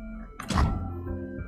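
A round-change sound effect in the Legends of Runeterra video game: a single deep, muffled thunk with a brief whooshing burst, followed by a low lingering hum.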